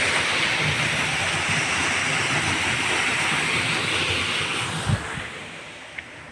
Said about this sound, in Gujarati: દારની મોટરનું એટલું પાણી આવે છે